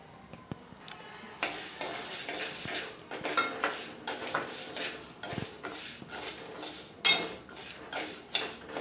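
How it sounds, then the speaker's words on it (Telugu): Toor dal dry-roasting in a pot on a stove produces close, irregular metallic scraping and clattering from stirring, with a sharp louder clank partway through. "ఒక గిన్నె పెట్టుకుని ఒక కప్పు కందిపప్పుని కొంచెం కలర్ వచ్చేంత వరకు వేయించుకోవాలి"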